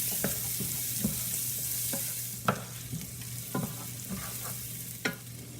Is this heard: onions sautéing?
yes